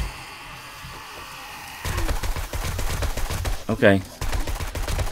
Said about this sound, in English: I think we should use the LMG